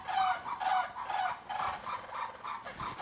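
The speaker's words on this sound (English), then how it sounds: "Whenever we try to film a video, those birds always interrupt." Backyard fowl squawking loudly and continuously, a flock of birds calling in rapid, overlapping, gobbling bursts close by with no talk.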